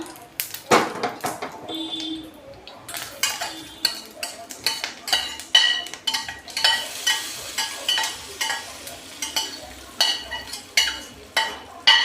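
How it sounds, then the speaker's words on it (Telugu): A spoon stirs a tempering into thick peanut chutney in a bowl, repeated soft squelching strokes in a steady rhythm, close by, with no talking. "ఇదేమో ఈ తాలింపు ఇందులో కలిపేసుకుందాం"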